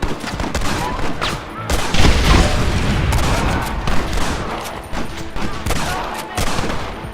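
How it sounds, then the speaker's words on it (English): Sustained, dense Gatling gun fire in the video game Red Dead Redemption, a loud continuous rattle of rapid shots and booms filling the whole stretch with almost no gaps. "You have the Gatling gun, Marston!"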